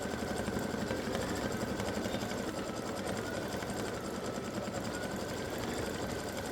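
An embroidery machine stitching a Halloween pumpkin face design in the hoop, a continuous rapid mechanical chatter with a steady needle rhythm, close and even throughout, no voices.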